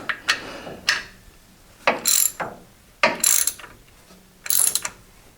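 A ratchet wrench loosening a serrated locking bolt makes four close, loud bursts of rapid clicking, each a short stroke followed by a pause, with no talking.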